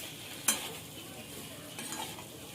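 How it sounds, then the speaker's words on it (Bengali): Cauliflower and potato stir in hot spiced oil, a soft steady sizzle broken by a sharp scrape of the spoon early on and a lighter stir near the end. "আলু মশলার সঙ্গে ফুলকপিটা মিশিয়ে নেবো,"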